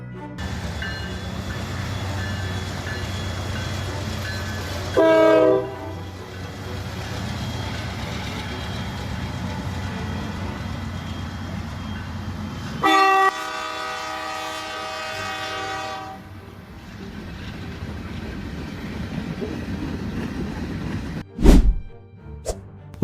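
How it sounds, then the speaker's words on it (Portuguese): A train rumbles past steadily, with a loud horn blast sounding briefly twice and sharp metallic clanks near the end as it strikes a vehicle. "o trem imparável veio direto contra ele com incrível força e velocidade."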